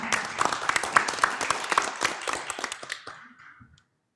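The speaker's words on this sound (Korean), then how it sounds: "큰 박수로 환영 부탁드리겠습니다" An audience at a 2024 maritime, shipping and ports outlook conference bursts into brisk, dense applause for the arriving guests, the claps tapering off and fading to silence after a few seconds.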